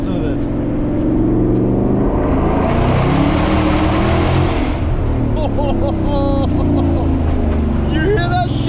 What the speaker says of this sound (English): this is the sound you get with the H-pipe